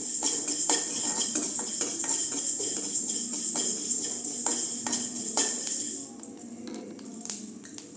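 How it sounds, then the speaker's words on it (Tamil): Fenugreek seeds roast in a hot kadai while a metal spoon stirs them, a continuous close sizzle and crackle broken by regular scraping clinks that grows quieter near the end. "வடச்சட்டி சூடாயிடுச்சுங்க வெந்தயத்தை போட்டு வறுத்துக்கலாம்"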